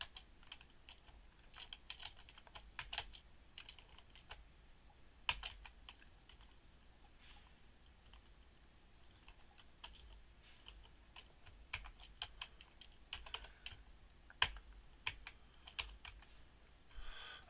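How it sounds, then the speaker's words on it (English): Rapid, irregular keystrokes clatter on a computer keyboard while someone builds a web form, with faint clicks in short bursts and brief pauses, close and alone with no voices. "I had some typing issues there."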